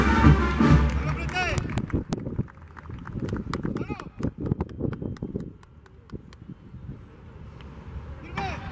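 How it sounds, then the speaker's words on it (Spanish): Horses galloping in a cavalry charge during a military display, with rapid overlapping hoofbeats and rustle, loud and close at first and then further away, while people speak over the start. "Finalmente terminamos con la gran carga, con la típica carga de caballería."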